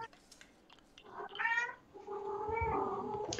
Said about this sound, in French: ce sont toujours mes chats